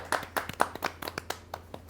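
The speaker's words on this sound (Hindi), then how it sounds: "आप जोरदार ताली से स्वागत करें" An audience at a Hindi kavi sammelan claps to welcome an Aligarh poet from Uttar Pradesh, a sparse, uneven run of about ten distinct hand claps, close and fairly loud, with no talk over them.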